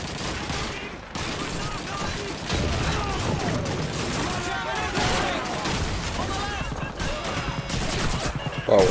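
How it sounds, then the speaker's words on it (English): Dense machine gun fire and scattered gunshots from a World War II battle in Call of Duty 2, crackling in rapid continuous bursts over a steady roar of combat noise. "Got that machine gun."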